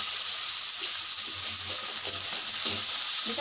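Shallots, garlic, chili, galangal and tomato stir-frying in a pan for a melinjo-skin dish, a loud continuous sizzle and hiss with faint scraping of the utensil underneath.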